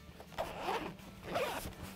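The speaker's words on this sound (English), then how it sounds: "So this will zip down and around." Zipper on an inner pouch of an off-road trail hydration pack being pulled open in two quick drags, close and crisp with no talking.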